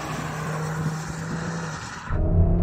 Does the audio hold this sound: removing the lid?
no